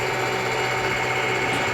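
An end mill cutting metal on a milling machine during a wig wag engine build, giving a steady close whirring grind with a high metallic whine, continuous and fairly loud throughout.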